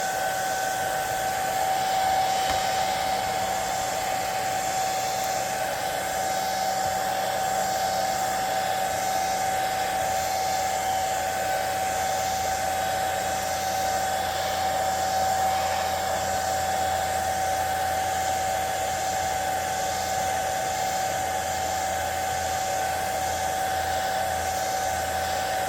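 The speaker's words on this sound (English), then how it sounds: "Put the dryer to it right away. Get all that paint to settle perfect." A hair dryer blows steadily on a freshly primed custom crankbait fishing lure, giving a constant, even whooshing hum with a fixed whine. It runs unbroken for nearly half a minute at moderate volume, with no talking.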